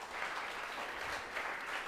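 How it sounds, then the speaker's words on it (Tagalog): Congregation clapping steadily inside a church during a sermon, a dense continuous applause filling the space without a break. "pumalakpak ng the best kay Lord."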